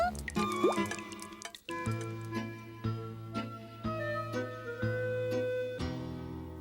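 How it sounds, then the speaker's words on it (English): Water drips at a steady, slow pace in an old house, each drop a clear ringing plop, repeating about once a second in a quiet room. "every old house has a drip or two"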